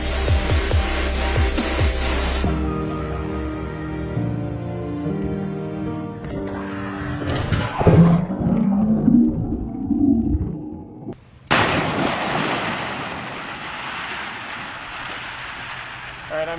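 Someone jumps into a pool filled with plastic shade balls and swims through them: a sharp splash and clatter of hollow balls rattling against each other, followed by continuous churning and knocking, close and loud.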